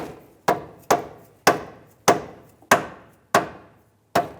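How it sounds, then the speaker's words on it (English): A control arm on a 2001–2005 Honda Civic tapped up into the chassis, seven sharp, evenly spaced knocks ringing briefly, close and loud with no talk. "We're going to go ahead and tap the control up into the chassis."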